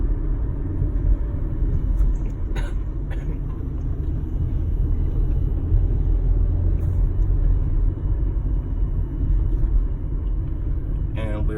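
Car with a manual transmission running in third gear, a steady low engine rumble that stays close and constant throughout, with a few faint clicks and taps.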